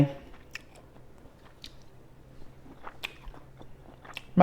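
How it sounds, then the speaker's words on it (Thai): Close, quiet chewing of Thai fish balls, with soft bites and squishy crunches scattered over a few seconds and a faint low hum in the background. "อืมอร่อยจริง ๆ น้ำจิ้มพี่ต่อยของแกอร่อย"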